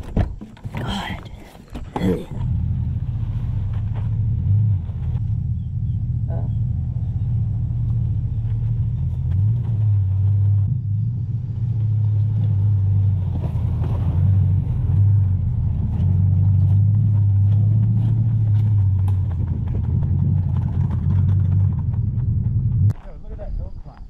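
A V8 Toyota Tacoma pickup rolls down a hill toward a pond, a close, steady low engine rumble with slight revving that lasts nearly the whole stretch, as people talk inside the cab.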